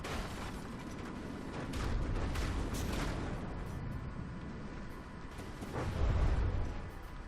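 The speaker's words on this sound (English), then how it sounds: "Something blew up. It's a lot of missiles." Missile explosions in From The Depths come as dense, rumbling booms and crackling blasts that fill the whole stretch. The loudest burst lands near the end, and no one speaks.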